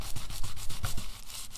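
An ink pad rubbed back and forth across shipping paper, giving a run of soft, rhythmic scratchy strokes, close and moderately loud, with no voices.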